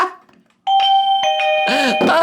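A video doorbell sounds its ding-dong chime: clear sustained tonal bell notes ringing near and loud, followed by brighter chime tones, after a brief quiet gap.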